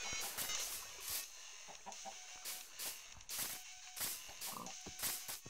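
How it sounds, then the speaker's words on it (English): A chicken in a video game clucking in repeated short bursts, with sharp intermittent clicks and a brief higher squawk among them, fairly close and alone without talk. "This chicken has been here for, what now, Max?"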